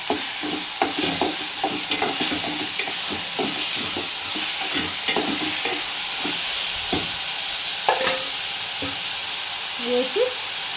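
Curry leaves and onion frying in hot oil for an onion pulusu, loud crackling sizzle with repeated clattering stirs of a spoon against the pan, a short hiss near the end.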